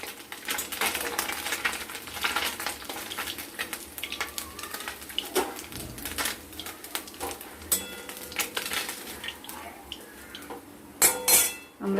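Fried chela fish, browned red in oil, lifted onto a serving dish, with steady clinks and scrapes of utensils against pots and plates throughout, plus a sharper metallic clatter near the end.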